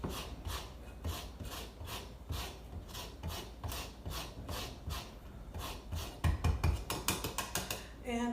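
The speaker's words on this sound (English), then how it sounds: "after we grate the zest" Lemon zest is rasped on a fine grater in steady back-and-forth strokes, close and rhythmic, quickening toward the end, with a voice in the background at points.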